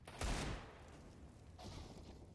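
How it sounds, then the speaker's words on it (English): Gunfire from a CS:GO match, with a loud burst of shots near the start and a softer second burst later. A steady game-ambience hum runs underneath. "Shots being fired."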